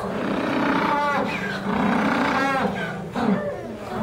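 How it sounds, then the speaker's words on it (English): An excited penguin gives a loud, harsh, donkey-like bray in a few rising and falling honking bursts, close and dominant over a noisy background. "And that noise is called a bray because it kind of sounds like a noise a donkey makes"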